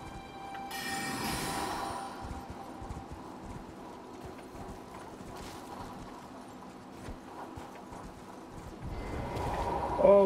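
Galloping horse hooves in the Elden Ring video game, a steady rapid clip-clop running the whole time at moderate loudness, with no talking over it.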